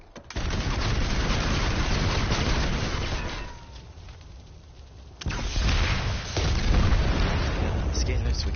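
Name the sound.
gunfire and explosions in video game Planetside 2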